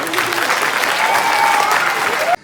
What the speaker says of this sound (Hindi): तालियां कमजोर है तुम्हारी